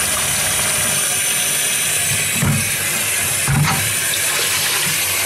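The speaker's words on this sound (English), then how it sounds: "rinse the bucket out real quick." Tap water pours steadily into a sink to rinse out a bucket, a loud continuous rush with two brief thuds as the bucket shifts under the stream.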